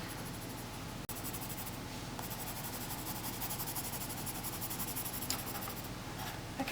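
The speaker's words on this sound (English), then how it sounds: "We gotta be light-handed with the pencils." Soft, steady scratching of a colored pencil moving lightly across sketchbook paper, close and continuous, with a faint background hiss and one brief tap.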